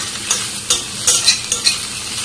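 Pointed gourd peels being stirred and mixed with salt in a hot pan over a low flame, a gentle sizzle punctuated by about six sharp scraping stirs at an irregular rhythm.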